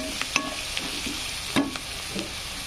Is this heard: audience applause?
no